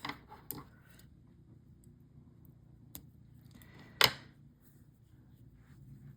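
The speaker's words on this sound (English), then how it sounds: "sew through a few more beads and cut that thread off" Scissors snip through beading thread in a quiet room, a few faint clicks followed by one crisp, louder cut near the end.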